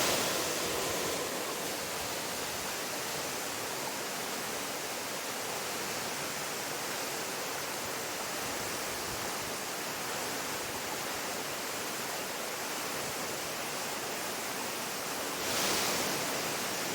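Moon Falls waterfall roars in a steady, dense rush of falling water, heard from right underneath the falls, loud and unbroken throughout.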